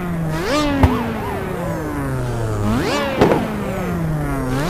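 Race car engines at the Hurricane Skyway track in a racing video game, with high revving tones rising and falling through gear shifts, loud and close, plus a couple of sharp clicks.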